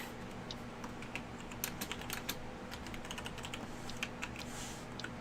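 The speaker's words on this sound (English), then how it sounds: "all of these quotes that I'm typing into chat are not actually what I'm saying" Rapid irregular clatter of keys on a computer keyboard as someone types a chat message, steady bursts of taps with brief pauses, close and moderately quiet, no voices.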